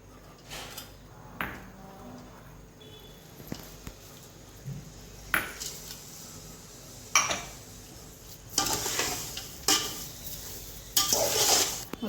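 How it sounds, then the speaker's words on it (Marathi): Sugar mixture with cashews and almonds stirred in a pan for sweet prasad, soft scraping stirs with occasional sharper metal clinks of the spoon against the pan, fairly quiet and close, growing busier toward the end. "तर ही साखर आता व्यवस्थित मिक्स करून घ्यायची आहे। तर मी यात काजू आणि बदाम टाकून घेते।"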